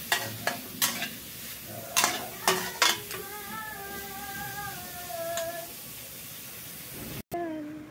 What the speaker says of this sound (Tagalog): Lutuan na lang natin muna sila ng Korean spam.